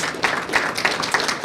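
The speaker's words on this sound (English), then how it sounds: "Why don't we just take a moment to give yourself a hand applause" Audience applause at a prison parenting program graduation in MCF-Rush City, a steady dense patter of clapping hands filling a room for a moment.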